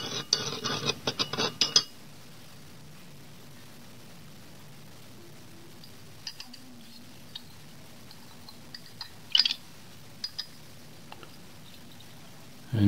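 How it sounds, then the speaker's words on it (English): Baking soda solution is stirred in a glass container, with a quick burst of close clinking and scraping for about two seconds, then near silence broken by a few faint taps. "So let us just stir that baking soda."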